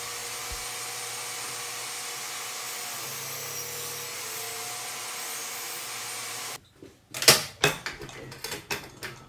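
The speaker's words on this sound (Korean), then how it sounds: "어쩔 수 없이 밑판 한쪽 면을 잘라줍니다." A power saw cuts along one side of a wooden base plate, first as a long steady whine, then it stops and gives way to a few sharp knocks and clatters of wood being handled.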